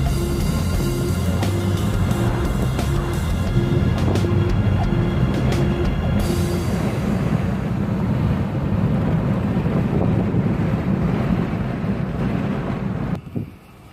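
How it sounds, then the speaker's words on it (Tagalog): Strong wind at Kanaha Beach Park buffets the microphone in a continuous roaring rumble, with surf noise underneath and occasional clicks, loud throughout before dropping off at the very end. "talagang mahangin dito."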